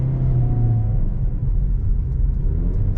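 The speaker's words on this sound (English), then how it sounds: "As you can see, the CVT sounds pretty loud." A 2020 Nissan Rogue with a CVT transmission driving along, a loud steady engine drone and low road rumble from inside the cabin, with a held tonal whine early on.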